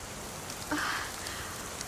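Rain falls steadily in the mountains, a brief, even wash of close patter with one slightly louder splash partway through.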